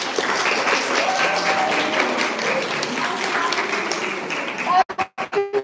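A school results gathering of students and parents breaks into loud, dense applause from a large audience that holds steady, then breaks off abruptly into a few scattered claps and noises near the end.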